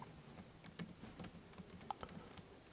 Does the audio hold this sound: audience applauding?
no